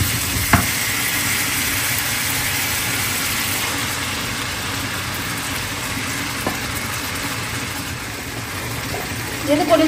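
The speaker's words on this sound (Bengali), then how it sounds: "কলিজা আর আলু একসাথে দিয়ে কষাই করবো।" Liver and potatoes frying together in a pan, a steady, dense sizzle that runs unbroken throughout, with a couple of faint clicks of stirring.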